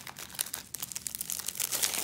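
A 1989 baseball card wax pack wrapper crinkles and tears close up, with quick irregular rustles and sharp crackles building steadily, no talk over it.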